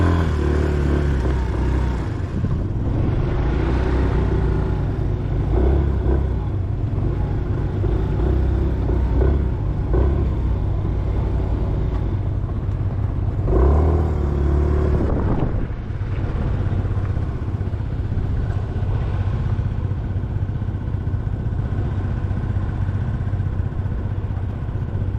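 A motorcycle engine rumbles steadily at low speed during a motorcycle skills test on a cone-weaving course, a continuous close engine drone with small throttle swells and no talking.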